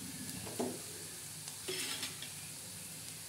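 A tadka of spices sizzles in hot oil for a cauliflower vegetable dish, giving a steady close frying hiss with a few soft stirring scrapes and no talk.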